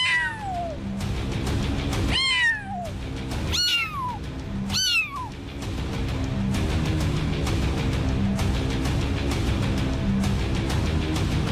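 Cats meow in a series of four drawn-out, descending cries spaced a second or two apart, loud and close, followed by a steady background hum with no further calls.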